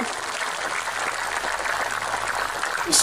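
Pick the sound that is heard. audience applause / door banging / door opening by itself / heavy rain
audience applause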